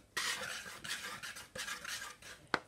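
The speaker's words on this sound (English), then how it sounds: "I'll add my baking powder and I'll give that a good whisk" A whisk scrapes quickly around a bowl, mixing salt and baking powder in rhythmic bursts of dry rattling, with a sharper clink of metal against the bowl near the end.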